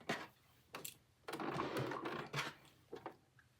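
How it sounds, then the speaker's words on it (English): A sewing machine stitches a patch onto the front of a jacket cropped from an oversized tee, short quiet bursts of whirring needle action separated by pauses. "we're going to stitch around the perimeter to attach it to the front of our jacket"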